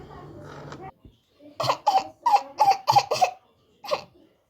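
A child's coughing fit in a Toca Boca Life game scene: a quick series of about seven harsh, close coughs in a row, preceded by a brief murmur.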